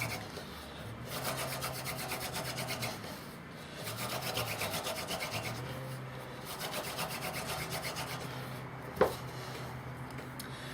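A wooden hand drill spindle is spun back and forth in a wooden fireboard for friction fire, giving a repeated rubbing, rasping sound in steady strokes, close and moderately loud, with a short knock near the end.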